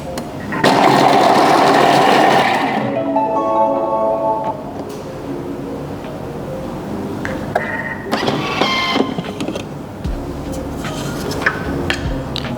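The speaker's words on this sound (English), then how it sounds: "Then we're going to blend for 20 seconds." Thermomix blending rendang ingredients at speed 5, a loud whirring motor burst for about two and a half seconds that then drops away, followed by quieter clattering and handling sounds.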